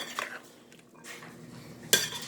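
A spoon clinks and scrapes in a bowl of cowboy caviar while dressing is stirred in, giving a few soft sloshing strokes and then a sharp clatter near the end, with no talking.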